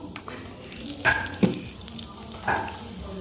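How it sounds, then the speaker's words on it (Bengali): Puffed dough pieces shallow-fried in a little oil give off a soft, steady sizzle, with a few brief louder bursts and clinks rising above it. "আর এগুলো অল্প তেলেই কিন্তু ভেজে নেব।"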